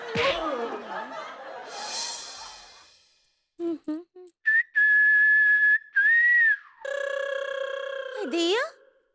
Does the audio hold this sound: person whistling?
yes